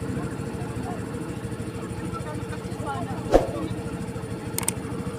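A motorcycle engine runs with a steady, close throbbing idle, and one sharp knock and a few faint clicks stand out over it.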